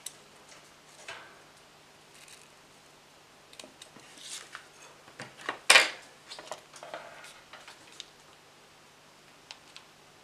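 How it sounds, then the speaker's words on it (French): Ribbon being cut with scissors while making Christmas tree decorations, heard as a series of close, crisp snips and small clicks, with one louder cut standing out, in a quiet room with no talking. "je vais couper mon ruban"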